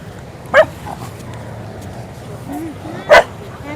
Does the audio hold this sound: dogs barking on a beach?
yes